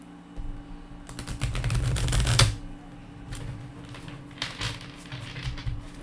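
A tarot card deck being shuffled at close range: a dense riffling burst of card flicks for about a second and a half, then softer, scattered card rustles and taps, with no voices.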